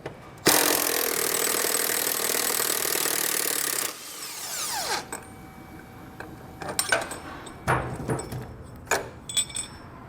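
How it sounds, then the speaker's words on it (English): A power tool with a 21mm socket loosens a truck body bolt on a 2021 Chevrolet Silverado 1500 during a nerf bar install, roaring steadily for about three seconds, then giving way to scattered metallic clinks and rattles. "We're going to remove that with a 21mm socket."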